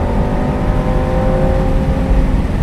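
Lamborghini Performante Spyder engine running steadily with a deep, loud rumble and a sustained mid-range drone, heard close from within the open-top car, no voices.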